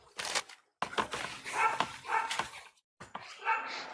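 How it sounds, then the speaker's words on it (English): A dog barks outdoors during the planting of two apple trees, giving a quick run of short, sharp barks and yips with brief pauses between them, close by. "Woof, woof, that's Sailor right now."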